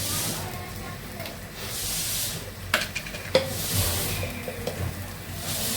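Vegetables with ginger-garlic paste cook in a pan, giving a steady close sizzle broken by a few sharp spatula knocks and scrapes midway.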